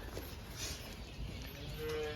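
A cow gives a faint, drawn-out low moo in a quiet outdoor setting, with no talking.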